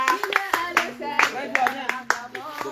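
A church congregation claps in rhythm at a baptism service in Bafoussam, Cameroon, sharp regular hand claps close by, layered with singing voices and tonal chanting.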